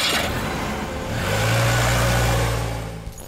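A car's engine hums close and steady, swelling as it revs and pulls away, then easing off near the end, with no voices over it.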